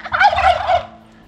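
A turkey gobbles once in a loud, close, bubbling burst lasting about a second, heard at a highland hill-tribe village in northern Thailand while preparations for a wedding ceremony are underway.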